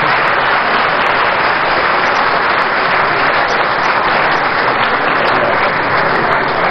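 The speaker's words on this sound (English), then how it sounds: "you may wish to clap for me if you think I've made some sense." An audience in a large hall, the KNUST Great Hall, gives sustained, even applause, a thick continuous roar of clapping that stays loud and close for several seconds.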